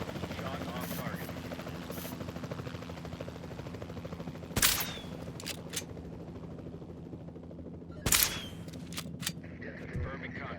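Gunshots in Jurassic World Evolution 2, two loud sharp cracks spaced a few seconds apart over a steady helicopter-like engine drone, with a few fainter clicks and snaps between them.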